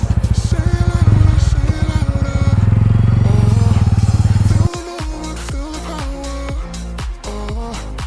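A TVS Ronin motorcycle engine runs loud and close with a steady pulsing thrum for about four and a half seconds, then cuts abruptly to music.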